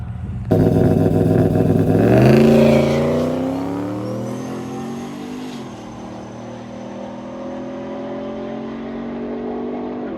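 An old work truck accelerates down a drag strip, its engine roaring loudly and rising steadily in pitch, then easing off slightly as it pulls away into the distance.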